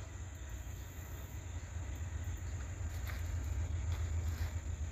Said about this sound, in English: I don't know what train this is.